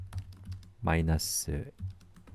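A few keystrokes tap on a computer keyboard while a git commit command is typed, soft clicks at the start and end with someone talking over the middle.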